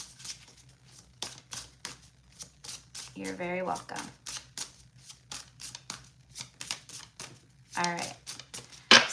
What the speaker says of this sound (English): So just want to get a little shuffle in real quick.